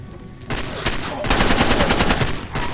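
Rapid bursts of automatic gunfire from the Far Cry 2 video game crackle loud and close, broken by short pauses between volleys.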